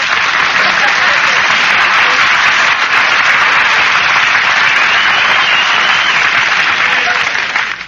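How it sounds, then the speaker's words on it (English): Studio audience at a 1943 radio comedy broadcast applauding, a dense, loud, sustained wash of clapping that holds steady throughout before tapering slightly at the end. "Nobody was supposed to applaud there."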